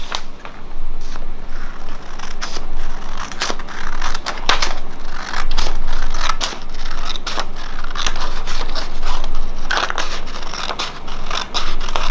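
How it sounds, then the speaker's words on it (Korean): Scissors snip steadily through a paper sewing pattern, a loud, close run of repeated crisp cuts and rustling paper with no talking. "가위로 잘라 볼게요."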